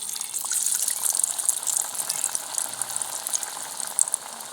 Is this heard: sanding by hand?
no